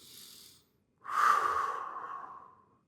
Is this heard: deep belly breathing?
yes